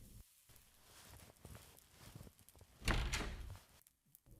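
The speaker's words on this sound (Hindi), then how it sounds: "विष्णु, जाके दरवाजा खोलो।" A door is opened in a home, with a rushing scrape and rattle near the end after scattered soft footsteps and handling noises, followed by a sharp knock or bump.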